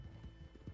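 Horse hooves in a video game, a quick run of soft clip-clopping beats at a galloping pace, close and fairly faint.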